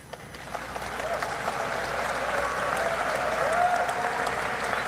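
Sustained crowd applause at a Filipino political speech, a dense, steady wash of clapping that swells slightly and holds throughout with no pauses.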